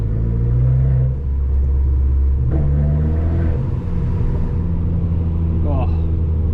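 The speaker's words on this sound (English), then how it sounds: "it's the way you hear that turbo coming through" A 2018 Abarth 595 Turismo's turbo engine accelerates, a loud low rumble from inside the cabin that steps up in pitch through gear changes, with faint turbo whistle near the end.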